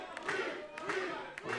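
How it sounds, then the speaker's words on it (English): A wrestling arena crowd chants in a rhythmic, repeated call, three loud pulses of massed voices in quick succession echoing through the venue. "crowd chanting weak"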